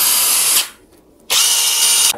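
A Blackfoot 1200 Nm cordless impact wrench running in tightening mode, two loud, close bursts of high rattling whine separated by a short pause.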